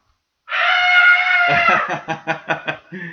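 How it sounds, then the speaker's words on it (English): A loud, sustained high-pitched scream, apparently from a child, holds for about a second, then breaks into a series of rhythmic, pulsing shrieks or sobs that fade toward the end. "If you hear screaming, it's because he's not a little boy anymore."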